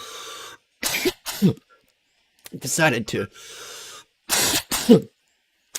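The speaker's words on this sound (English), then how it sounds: "I was coughing so hard" Several harsh, explosive coughs in quick bursts with short silences between, close and loud, followed by a brief spoken phrase.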